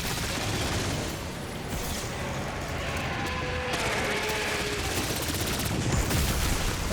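MP40 submachine gun firing in Black Ops 6, heard as a continuous rattling stream of rapid shots over heavy background noise, steady and fairly loud throughout.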